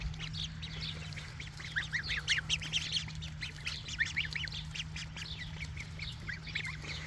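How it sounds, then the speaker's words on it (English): Ducks quack and chatter in quick clustered bursts while feeding on fresh greens, a moderately close flock over a steady low hum, with no talking. "These ducks are loving their fresh greens, that's for sure."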